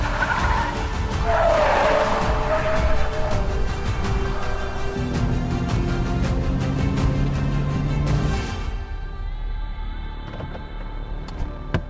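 Tires squeal steadily as a Cadillac CT4 or BMW 330i laps a short race track, a continuous loud scrubbing over engine drone that lasts about eight seconds before fading into quieter running.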